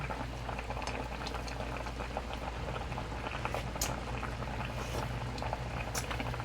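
Sinigang soup with fried tilapia bubbles at a rolling boil in a pot, a steady close burble with scattered louder pops, faint and continuous with no talk.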